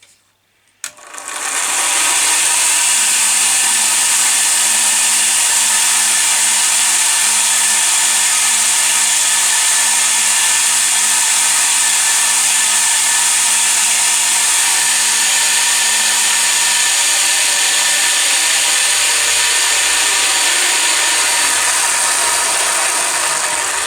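A Lidl Parkside PSBS 240 C2 belt sander grinder spins up after a brief quiet start, then runs with a loud, steady high-pitched whine and motor hum for over twenty seconds, close by.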